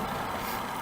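Road traffic rolls past at a roadside stop, a steady, low engine rumble and tire hiss at moderate distance with no voices.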